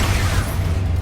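Expulso spell blast from the Hogwarts Legacy video game: a dense, continuous roaring rumble with a low booming body and hissing top, steady and loud for the whole moment with no clear single onset.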